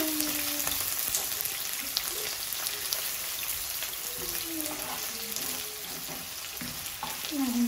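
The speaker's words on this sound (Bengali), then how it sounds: "তেলটা বেশি গরম হয়ে গেছে, তো আমি একটু পেঁয়াজ দিলাম।" Onions crackle and spit in very hot oil in a pan, a close, continuous rain-like sizzle with scattered sharp pops and occasional stirring.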